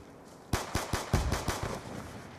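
A burst of gunfire shot into the air in Call of Duty Black Ops 2: about seven sharp, evenly spaced cracks in quick succession, fairly near, then a fading tail.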